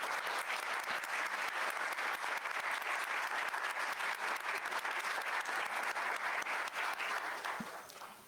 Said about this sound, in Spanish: denle un aplauso al autor